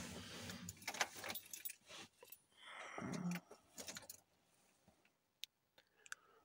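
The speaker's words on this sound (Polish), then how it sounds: "przekaźnik świec żarowych włączony, wskoczył, czyli działają świece żarowe po przykręceniu kluczyka" Ignition key jangling and turning in an Opel Vivaro van, followed by a few sharp, isolated clicks from the glow plug relay switching on, close and fairly quiet in an otherwise still cabin.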